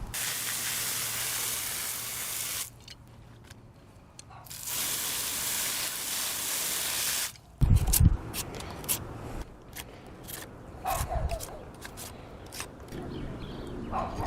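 Water from a tap sprays steadily over freshly harvested ground apple tubers in two long hissing bursts, followed by quieter clattering and handling sounds as the tubers are rubbed and moved about.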